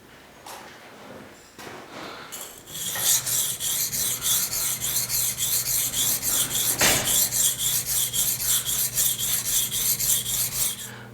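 A kitchen knife blade is stroked back and forth on a 10,000 grit sharpening stone, a rhythmic rasping scrape repeating steadily at close range after a few quieter opening touches.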